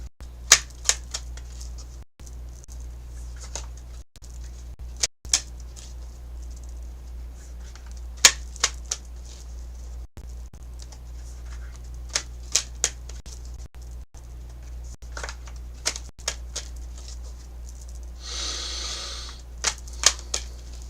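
Astrology cards being shuffled by hand, crisp snapping riffles and clicks repeating irregularly over a low steady hum, with a brief burst of rustling toward the end.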